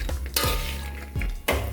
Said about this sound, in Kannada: ಮ್ಯಾಲೆ ಎಣ್ಣೆ ಹಾಕಿ ಚೆಂದಾಗಿ ಹುರ್ಕೋತೀವಿ